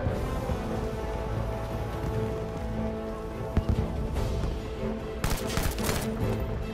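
Battlefield 5 gunfire on the Mercury map, a steady dense rumble of shots with sharper bursts standing out near the end, continuous and fairly loud throughout.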